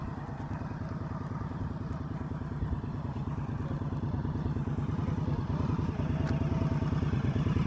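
A motorcycle engine thrums at low throttle during advanced slow-speed riding practice, a steady close rumble with a rapid pulsing beat and slight clatter, rising a little toward the end.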